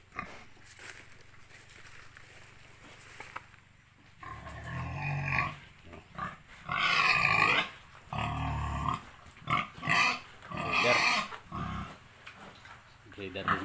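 Landrace breeder pigs in a piggery let out loud, rough grunts in irregular bursts after a quieter stretch, close by, with a person talking over and between them.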